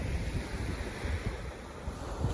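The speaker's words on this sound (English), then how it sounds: "The wind is really picking up" Strong wind buffets the microphone over steady crashing ocean surf at Ormond Beach, Florida, a continuous loud roar with gusty rumbling and no voices.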